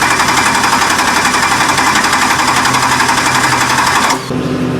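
A Mercruiser 5.0 V8 carbureted boat engine cranks loudly on its starter with a rapid, even chugging rhythm for about four seconds, then drops off abruptly to a lower hum.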